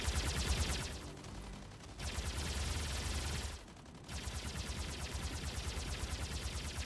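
Rapid gunfire from mechs in the video game Mech Arena, dense continuous bursts of shots with two brief pauses, fairly faint and without talking.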